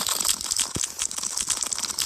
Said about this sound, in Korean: 먼저 눈 밟는 소리.